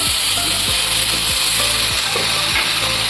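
Bottle gourd seeds frying with already browned onions in a pan, a loud continuous sizzle with rhythmic scraping strokes of a stirring spoon about twice a second, close up and without talk.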